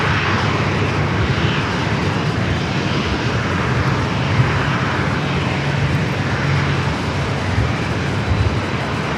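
A jet airliner taking off on runway 27 at San Diego airport, a steady broadband engine roar that stays loud and continuous throughout with no voices.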